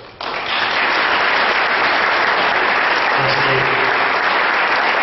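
Applause bursts out at a town hall meeting, starting abruptly and settling into a loud, steady wash of many hands clapping, with faint murmurs in the room beneath it.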